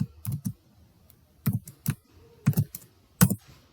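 Crisp plastic key clicks from a computer keyboard, four short separated strikes spread over a few seconds, close and clear in a quiet room, with a final firmer press like an Enter key.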